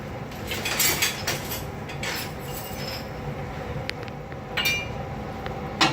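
Roux of flour and fat being stirred in a pan with a wooden spoon, a close scraping and rasping with irregular soft knocks against the pan, continuous over a low background hum.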